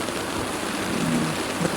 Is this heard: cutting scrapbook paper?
no